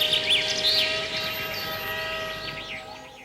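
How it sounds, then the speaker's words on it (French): Small birds chirp and twitter in quick, bright phrases over a steady droning hum of heavy traffic in a jam; the sound is continuous and fairly close, with no speech. "faire entendre les petits oiseaux chanter dans des grands embouteillages"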